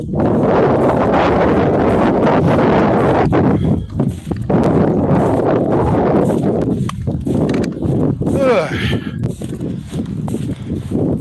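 Strong wind buffets the microphone out on a frozen lake during an ice fishing trip, a steady loud roar with gusty fluctuations throughout, close and unbroken, with no talking.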